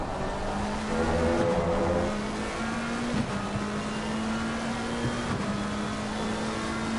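A McLaren race car engine at Snetterton drones steadily with a sustained tonal whine under broadband road and wind noise, its pitch shifting slightly as it runs.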